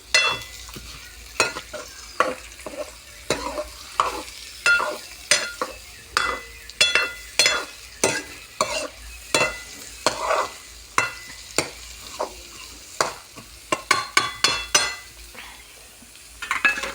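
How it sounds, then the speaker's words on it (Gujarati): Chopped onions frying in a pan, stirred with a utensil that scrapes and clinks against the metal in repeated rhythmic strokes over a soft steady sizzle, close and fairly loud. "હવે ડુંગળીને થોડીક શેકાવા દઈશું"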